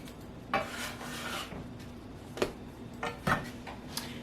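A bench scraper knocks and scrapes against a floured counter while sourdough bread dough is flipped and handled, giving a few separate clacks and rasping scrapes over a low hum.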